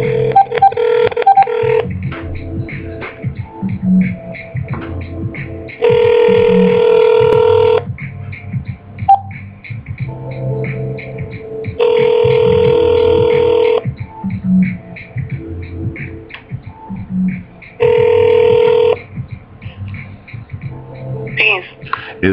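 A phone call to a guest on a live show: bursts of electronic ringing tone repeat at regular intervals of a few seconds, loud and clear, with quieter line noise and faint dialing beeps between them.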